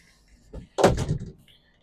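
A galley door on a Jeanneau NC 1295 motor yacht slides and bumps once nearby, a short rattling clunk in an otherwise quiet space.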